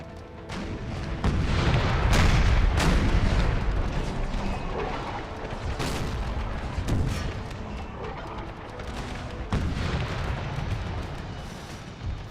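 Soldiers firing muskets in an Empire: Total War battle mod, heavy overlapping volleys and booming gunfire rolling on continuously, with sharp cracks standing out at intervals against a dense battlefield din.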